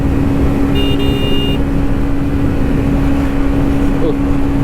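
A motorcycle revs as its throttle is twisted in traffic during a morning group ride. The engine hum is loud and steady, with a brief horn-like tone early on and wind noise throughout.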